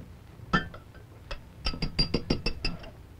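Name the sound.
vanilla ice cream put into a glass, clinking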